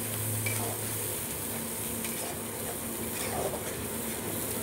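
Onion paste hits hot oil in a pan while cooking boal fish, giving a continuous frying sizzle with scraping stirring strokes and light utensil clinks close by.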